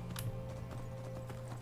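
Rhythmic clip-clop of horse hooves trotting in the video game Skyrim, steady and fairly close, with a steady hum in the background.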